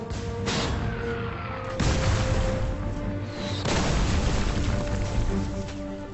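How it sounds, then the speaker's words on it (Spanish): Mortar rounds burst in a wartime bombardment, a few heavy booms landing a couple of seconds apart over a continuous loud rumble of battle, with no voices. "los dos hombres fueron atacados con fuego de mortero."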